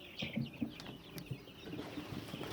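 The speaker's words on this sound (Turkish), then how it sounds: "bu yumurtalardan çıkan civcivlerin bir kısmını size göstereceğim" A brood of newly hatched local-breed chicks, about sixty of them, cheeps in a steady, overlapping chorus of thin, high peeps, close by and fairly soft, with no voices.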